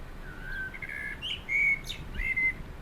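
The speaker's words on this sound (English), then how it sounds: "Maybe try bird singing too." Bird singing, a Soundtrap sound effect: a few clear, bright whistled chirps and short tweets in quick phrases, moderately loud against a faint hiss.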